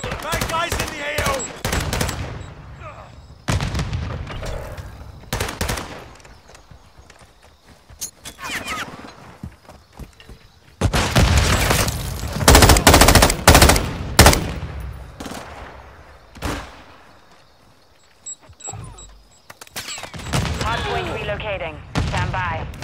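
Bursts of automatic gunfire and scattered shots from a Call of Duty MWII hardcore Hardpoint online match on the El Asilo map, loud and repeated across the clip, mixed with game radio voice callouts.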